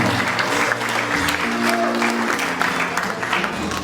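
Congregation at a Christian wedding service breaks into sustained applause, a dense, even wash of many hands clapping together at moderate loudness, with murmuring voices beneath.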